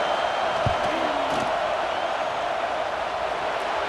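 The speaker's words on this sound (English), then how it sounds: "This crowd trying to do its part to get inside the kicker's head." College football stadium crowd at a Florida vs LSU game during a field goal attempt, a steady loud roar of noise with a few faint whoops and thuds, continuous and distant-sounding.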